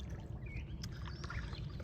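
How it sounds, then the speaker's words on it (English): A paddle works the water of a river beside a small boat, giving soft splashes and trickling drips over a steady low rumble, quiet and close. "I might as well, do a little paddling"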